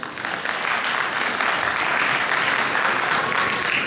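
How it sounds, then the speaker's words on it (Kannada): Sustained audience applause at a Karnataka Rajyotsava gathering, a dense, steady wash of many hands clapping at close range, holding evenly loud from start to finish with no voices over it. "ಸೊ ಇನ್ನೊಮ್ಮೆ ಜೋರಾಗಿ ಚಪ್ಪಾಳೆ"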